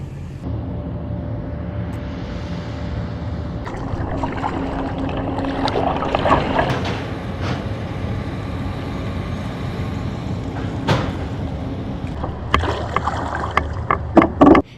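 The Merrimac Ferry approaches across Lake Wisconsin with a steady low rumble heard from a kayak on the water. A few sharp clicks and knocks sound close by toward the end.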